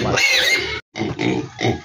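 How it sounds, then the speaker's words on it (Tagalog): Six newly arrived pigs on a small backyard farm, oinking and grunting up close in loud, overlapping bursts, with a brief pause before the grunts resume. "Ito po yung mga bagong salta na baboy ko."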